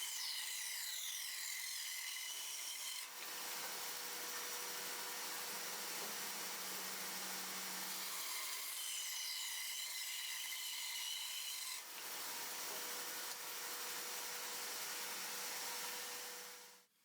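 A saw cutting through 2x4 scrap wood, long rasping strokes in a few sustained bursts separated by brief pauses, close and fairly loud, with no talk.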